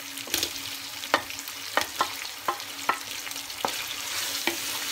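Tomatoes cook with onions, ginger, garlic and green chillies in a pan under a low, steady sizzle, with a spoon scraping and tapping about every half second.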